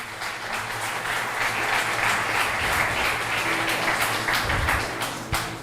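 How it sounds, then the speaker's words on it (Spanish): Sustained applause from a church congregation during a Spanish-language worship service, a dense, steady wash of clapping lasting the whole stretch with no speech over it. "Dale un aplauso al Señor."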